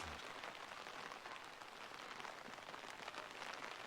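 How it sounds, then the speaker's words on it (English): Rain falls steadily on a vegetable garden of zucchini, potatoes and spinach in Australia, a dense, even hiss of drops pattering on leaves and soil, faint and distant with no voices. "let the rain continue. It's supposed to rain all day."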